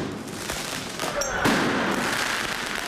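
Fireworks hurled at police officers during a street protest, a sharp crackling burst ringing out over a steady roar of crowd noise and voices, then smaller pops trailing off amid the din.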